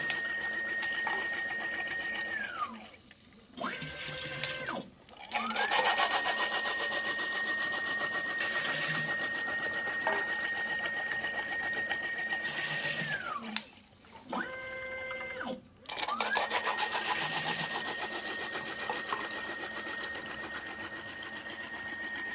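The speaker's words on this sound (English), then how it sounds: "Basically, it's just non-stop filling machine." An XL matrix bottle filling machine runs with a steady mechanical whine and hum, broken twice by short pauses with rapid stepping tones before the drone resumes, loud and close throughout.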